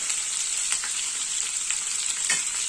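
Ginger garlic paste fries in a pan with a steady, close hiss and crackle. A few sharper spits and stirring scrapes rise out of the sizzle, and no one speaks.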